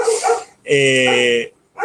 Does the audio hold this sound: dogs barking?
yes